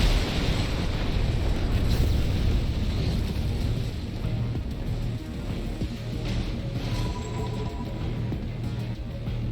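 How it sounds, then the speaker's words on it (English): Heavy booming rumble of explosions during a player-versus-player mech battle in Armored Core VI, loudest early and then settling into a sustained roaring wash, no voices. "Yay, invisible explosions."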